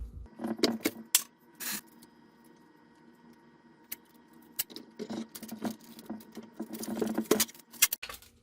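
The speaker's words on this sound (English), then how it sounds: "let me change out this tape real quick." Packing tape dispenser being reloaded with a new roll during parcel packing: scattered plastic clicks, snaps and rattles come in quick bursts with quiet gaps, faint and close, with no talking.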